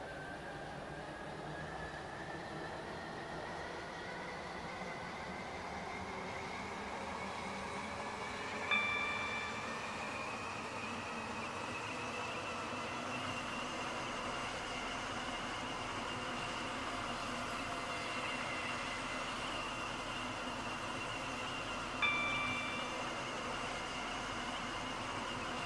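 A passenger train in the Stepford County Railway video game travels steadily with a continuous rumbling roll, faint wheel squeal and rising whine, and two brief soft chime tones partway through.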